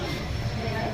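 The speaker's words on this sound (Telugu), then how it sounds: "మొత్తానికి అయితే ట్రైన్ స్టార్ట్ అయిపోయింది ఇప్పుడే" A passenger train pulling away on a family trip toward the village, giving a steady low rumble and broadband rolling noise that holds at moderate loudness, with faint voices mixed in.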